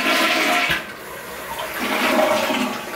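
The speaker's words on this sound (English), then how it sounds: "This used to be the worst toilet in our house." A newly repaired, powerful household toilet flushes with a loud close rush of water that dips briefly, then surges again and drains, with no talking.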